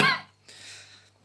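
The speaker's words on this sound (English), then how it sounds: "keep coughing" One person gives a single short, harsh cough close to the microphone, followed by a soft breathy exhalation in a quiet room.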